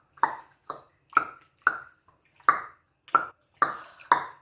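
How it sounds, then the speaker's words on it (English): Wooden matkot paddles on an Israeli beach trade about eight sharp, hollow knocks at an even back-and-forth rhythm, each hit crisp and close against near silence. "Everywhere in Israel, they love to play matkot."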